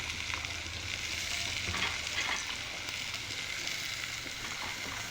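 Cut bitter gourd fries in hot oil, giving a steady, close sizzle that holds evenly throughout with no voices.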